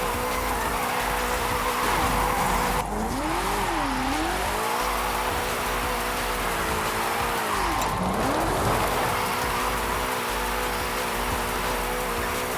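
Engine note rising and falling with tire screech as a car drifts in the racing game Forza Horizon 5, steady and loud throughout with no talk.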